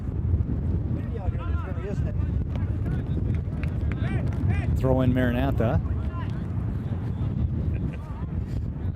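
Wind buffets the microphone across an open prairie soccer field during a school match, a steady low rumble under a commentator's continuous talk and distant shouts from players.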